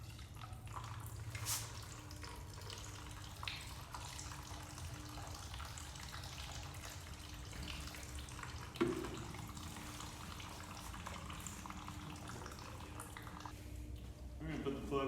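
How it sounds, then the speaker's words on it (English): Water trickles and drips steadily from a Yamaha TTR 125 motorcycle engine that was submerged, a soft continuous pouring with a low hum and occasional quiet voices nearby. "And see if we can flush some of the water out."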